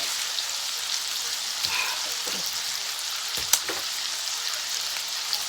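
Sliced andouille sausage fries in a hot pan with a steady, close sizzle and crackle, broken by a few soft pops and faint utensil taps.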